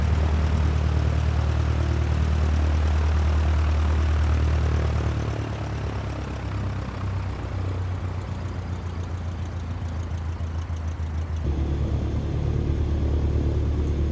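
A light aircraft taxis at Wycombe Air Park in Microsoft Flight Simulator with a continuous, loud propeller-engine drone and low rumble. The engine eases off slightly partway through and then builds again, with no talk.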